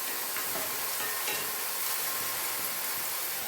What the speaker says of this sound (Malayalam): ഒന്ന് ഇളക്കിയിട്ട് കൊടുക്കാം.